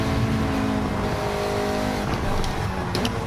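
A Honda Civic Type R FL5 on a race track, its engine droning steadily and loud under power as the driver eases off and gets back on the throttle through an S-bend, with faint tire noise.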